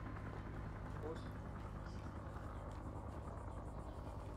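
A helicopter in the ArmA 3 combat game, set during a Vietnam-era operation, drones with a low, steady rotor rumble at a distance, faint and continuous, while voices talk over it.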